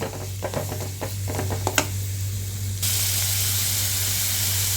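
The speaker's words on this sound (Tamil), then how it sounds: "வெங்காயம் வந்து நல்லா பொன்னிறமாக வர்ற வரைக்கும் நம்ம வதக்கிக்கணும்." Onions being stirred and sautéed in a pan until golden, with a steady sizzle and a run of scraping stir strokes early on, then a louder, even hiss of frying with no talk.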